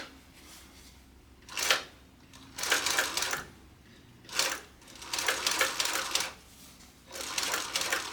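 Industrial sewing machine stitching a quilted bucket bag, running in several short bursts of rapid mechanical whirring separated by brief pauses, close and fairly loud with no talking.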